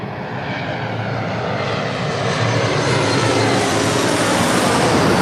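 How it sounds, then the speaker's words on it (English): Delta Connection Embraer E175 jet arriving at LAX from Phoenix, a loud, close engine roar that swells steadily and holds as the aircraft passes, with no voices over it. "This is Delta Connection 3676 coming in from Phoenix on an E175"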